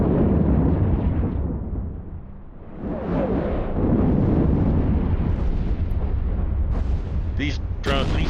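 Explosions from close targets in the space game EvE Online boom in loud, rumbling bursts, one heavy blast fading near the two-second mark before another deep roar swells, with brief sharp electronic tones near the end.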